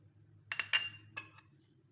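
Almonds dropped into a bowl of powdered milk for kulfi, a few light clinking taps in quick succession, close and quiet.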